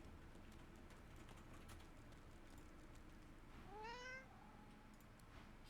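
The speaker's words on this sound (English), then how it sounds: "I found a skeletal cat." A skeletal cat in a video game gives one short, clear meow near the end, heard over a faint, steady background of game ambience.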